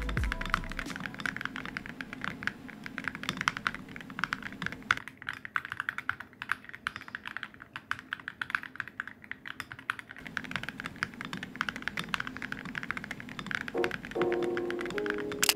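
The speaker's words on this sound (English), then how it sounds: "So here's how the keyboard sounds." Typing on a Razer custom mechanical keyboard with ceramic keycaps and lubed stabilizers, a continuous close stream of deep, clacky keystrokes with a brief stretch of steadier tapping midway and a few thunky presses near the end.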